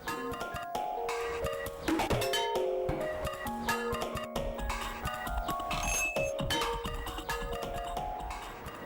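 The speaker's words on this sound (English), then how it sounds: "You'll be ringing at the same pace, but the bells you'll be ringing will change." Church tower bells rung by a team of bell ringers swapping their order, a steady run of overlapping metallic clangs with long ringing tones that carries on throughout.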